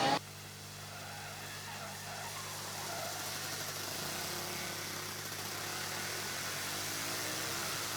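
A Formula Student race car with a 750cc longitudinally mounted engine drones steadily on an endurance track, its engine note building slightly louder over several seconds and heard from a distance.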